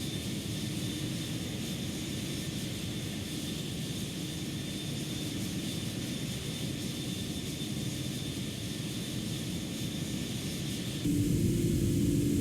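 Antonov AN-225 engines spooling at full takeoff power in a flight simulator game, a steady loud roar with broadband hiss that swells slightly louder near the end, no voices.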